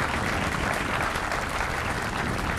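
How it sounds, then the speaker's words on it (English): Crowd applause at an outdoor Fourth of July celebration, a continuous dense clapping roar with no gaps, heard alone. "Can we have a round of applause for them?"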